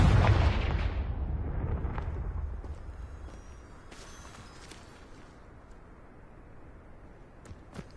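A Confringo blasting spell explodes as a fantasy-game effect: one loud, close boom at the start that decays slowly into a fading rumble, followed by a few faint, sharp clicks near the end.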